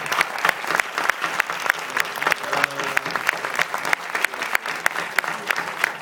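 A cinema audience applauds at a film premiere screening in Lille, steady dense clapping from a full room with a few voices faintly under it.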